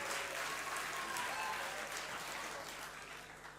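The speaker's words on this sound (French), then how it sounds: "On peut encore les applaudir une fois" Audience clapping steadily for children's dance battle performers at a Croix-Rouge camp event, a dense, continuous applause that fades slightly toward the end.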